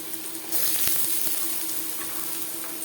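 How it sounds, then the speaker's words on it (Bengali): Cut potatoes are tipped into hot oil with chili and nigella seeds, and the sizzle swells into a loud, continuous frying hiss. A couple of faint clicks sound from the pan, with no voices. "10-15 সেকেন্ড লঙ্কার সাথে কালো জিরে ভেজে নেওয়ার পর দিয়ে দেবো টুকরো করে কেটে রাখা আলু"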